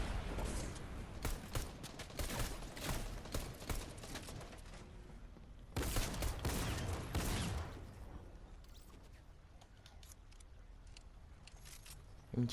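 Gunfire in the video game Fortnite rattles in rapid bursts, a dense volley near the start and another loud burst midway, then thinner scattered shots and clicks.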